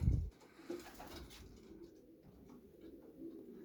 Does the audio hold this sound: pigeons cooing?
yes